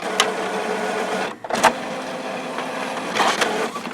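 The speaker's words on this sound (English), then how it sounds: "Go back to setup, maintenance, print nozzle, check. Let's print it out." An Epson inkjet printer prints a nozzle check with a continuous close mechanical whir, broken by a brief drop and a few sharp clicks and clunks of the print head and paper feed.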